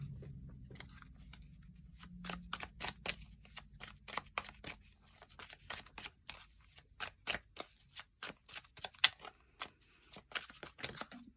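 A deck of tarot cards is shuffled close up, with quick papery riffles and flicks in irregular bursts, steady and fairly quiet, with no talking.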